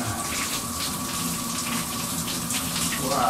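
Water runs steadily from a hot tap, a continuous broadband rush that swells slightly toward the end, with no voices over it.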